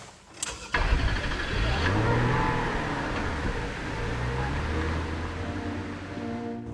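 A 2.5 litre KV6 Rover 75 Connoisseur pulling away smoothly, its engine note rising steadily from a low idle into a sustained close hum, with no voices over it.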